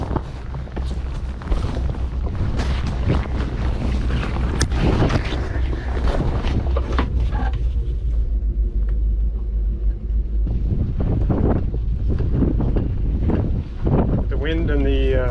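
Wind buffets the microphone with a steady roar and a low engine rumble as a looping cruiser approaches a dock at Dallas Bluff.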